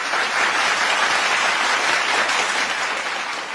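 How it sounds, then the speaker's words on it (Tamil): An audience applauds students from a government school who passed an exam, a dense, even burst of clapping that holds strong throughout and eases slightly at the close. "அவர்களுக்கு நல்ல கைத்தட்டல கொடுக்கலாம் நம்ம எல்லாருமே சேர்ந்து நினைக்கிறேன்"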